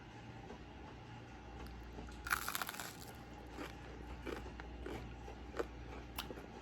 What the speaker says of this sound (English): This bread is very crunchy.